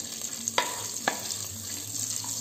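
Cardamom pods, cloves, cinnamon sticks, star anise and bay leaves frying in hot ghee for egg biryani: a steady soft sizzle broken by two sharp clinks of a stirring spoon against the pan.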